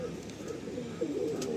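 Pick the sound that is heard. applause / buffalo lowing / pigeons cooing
pigeons cooing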